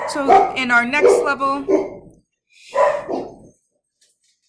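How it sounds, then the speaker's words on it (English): Pet dogs bark and yip in the background indoors, with short high-pitched bursts mixed into and under a person speaking. "Excuse my dogs in the background."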